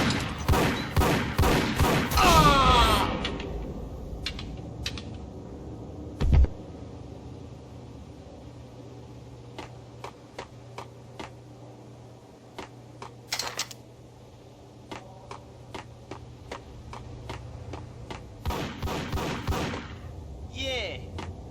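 Gunfire in the video game Max Payne: a burst of rapid shots at the start, then scattered single sharp cracks spread across a quiet stretch with a low hum, and another cluster near the end.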